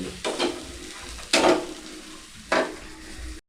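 Coconut and tomato masala fries in a pan, a soft continuous sizzle broken by three louder scraping stirs spaced about a second apart, close and with no talking.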